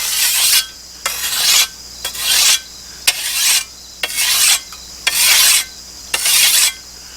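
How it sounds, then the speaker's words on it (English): A hand file rasping rust off the bevel of a weeding tool, in steady back-and-forth strokes about once a second, close and loud with brief pauses between passes. "I'm going to keep going until I get that rust off the bevel."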